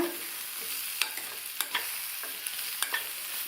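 A spatula stirs potato masala with crushed garlic in a pan, producing soft scraping strokes and a handful of sharp clinks at irregular intervals over a faint, steady sizzle, close and quiet, no talk.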